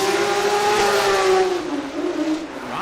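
A Ready Performance Toyota Racing GR Supra drift car revs hard during Formula Drift knockout qualifying, its engine screaming loud and close in a brief, sustained high-rpm wail that slightly dips near the end.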